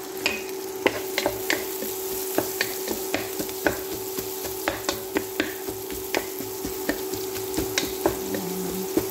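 Chopped onion fries steadily in hot oil in a pan with butter, giving a continuous sizzle broken by sharp clicks and scrapes of stirring at an irregular pace; close, with no talking.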